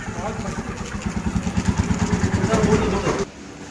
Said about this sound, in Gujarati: અહીંના મહારાજજીને બાઇક ખૂબ ગમ્યું તો મહારાજજીએ ચક્કર માર્યું